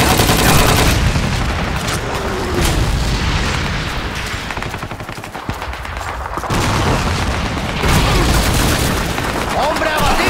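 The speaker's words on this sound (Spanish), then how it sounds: "¡Una ametralladora! ¡Es una MG-42!" MG-42 machine gun fire in the World War II shooter Call of Duty 2: dense, loud bursts of rapid automatic shots with booming impacts, continuing through the whole stretch with brief lulls.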